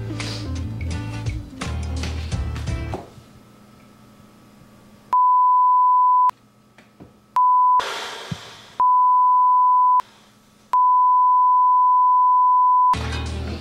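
A kitchen timer is set for one hour beside an oven after some clatter. It gives a string of steady, high, sustained beeps with short silent gaps between them.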